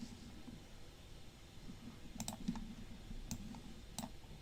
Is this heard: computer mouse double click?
yes